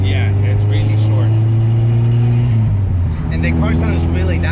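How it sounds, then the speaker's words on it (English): A 1994 Acura Integra RS hatchback idles with a steady low engine drone that rises briefly as the revs climb, while people talk over it. "And the car sounds really nice. The hatch, it emphasizes the sound."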